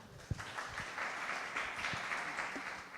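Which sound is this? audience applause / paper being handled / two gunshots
audience applause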